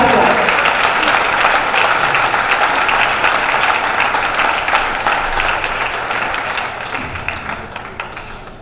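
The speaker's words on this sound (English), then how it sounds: "let's give a round of applause" Loud, dense applause from a brunch event audience, sustained and even for several seconds before gradually tapering off toward the end.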